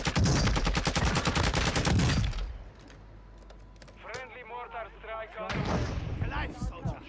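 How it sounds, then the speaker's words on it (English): Mortar strike explosions in the Warzone video game form a dense, loud barrage of rapid blasts for about two seconds, then ease off while a voice speaks, before another burst of heavy fire returns. "Mortar strike on."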